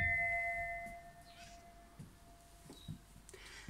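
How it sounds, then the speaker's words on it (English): Doorbell of a house in Kerry's Bay near Port Chalmers, Dunedin, giving a short two-tone chime that rings out and fades, followed by quiet faint knocks and rustles. "I suppose we should ring the bell."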